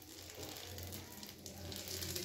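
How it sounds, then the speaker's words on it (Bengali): Bengali moghlai paratha shallow-frying in a couple of spoons of oil, giving a steady, close hiss and crackle of sizzling that runs unbroken throughout with no talk. "ভেজে নিচ্ছি মোগলাইটাকে"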